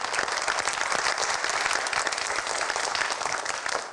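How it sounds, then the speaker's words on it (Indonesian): Steady, dense applause from a studio audience at a live Ramadan pre-dawn variety show, continuous and fairly loud throughout with no break. "tepuk tangan semuanya."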